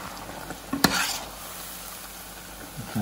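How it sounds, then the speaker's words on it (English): A vegan Chinese stir-fry sizzles in a pan. A steady frying hiss runs throughout, a sharp clatter near the start suggests the food being tossed or stirred, and there is no speech. "You see it's getting a nice fry to it now."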